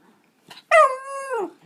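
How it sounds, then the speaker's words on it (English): A dog gives a single close, loud drawn-out howl that rises and then slides down, preceded by a faint short huff. "This is Koda, my biological dog"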